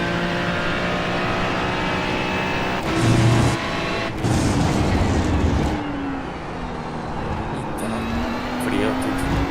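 Ferrari race car at Spa in a racing game, engine droning steadily and then surging as it accelerates, with gear shifts and rising revs, while a voice talks over it.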